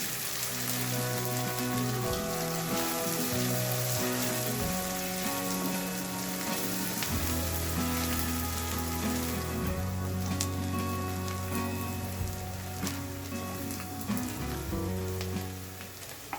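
Onions fry in a pan for a chicken changezi, giving a steady, soft crackling sizzle that runs the whole time beneath a tonal background.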